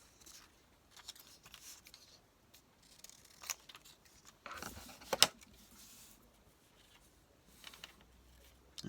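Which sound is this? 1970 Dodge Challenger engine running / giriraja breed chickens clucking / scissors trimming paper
scissors trimming paper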